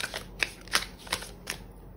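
Tarot cards being shuffled by hand, a handful of crisp riffling swishes repeating in a quick, even rhythm, close and moderately loud, with no talking.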